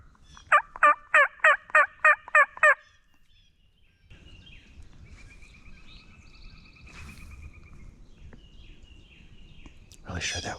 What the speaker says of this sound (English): Really sure that was a gobble over there.